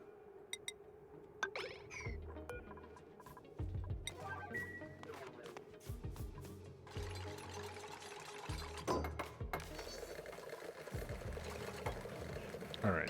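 Mechanical whirring, clicking and ratcheting of a vacuum machine starting up and running in a modded game, with gear-like mechanism noises and intermittent bursts of steady hum throughout.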